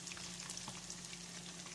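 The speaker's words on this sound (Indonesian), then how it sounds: "Ini saya goreng ayam" Chicken pieces fry in hot oil with a steady, quiet sizzle and faint crackle throughout, no voices over it.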